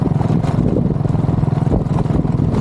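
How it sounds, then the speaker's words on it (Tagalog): A motorcycle engine runs steadily nearby with a low, continuous throbbing hum and small fluctuations in pitch, and no voices are heard over it. "Motor na to guys."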